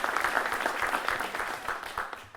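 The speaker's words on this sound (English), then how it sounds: "I'd like a round of applause for the Delta folks as well" An audience at a valedictorian awards ceremony applauds Delta Airlines staff, a brief burst of soft, steady clapping heard from a distance.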